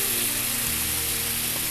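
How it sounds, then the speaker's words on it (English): Orzo pasta sizzling in hot olive oil in a frying pan, a dense steady hiss and crackle close up, with no talking. "Sizzling pretty good."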